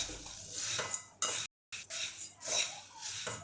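Puffed rice and puffed ragi chivda mix tossed in a hot kadai after the tempering, giving a close, steady scraping rustle with spoon clinks against the pan and a short silent pause midway.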